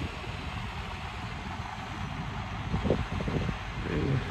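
A tractor engine runs steadily at idle close by, a continuous low rumble with a slight rise in loudness toward the end and no voices.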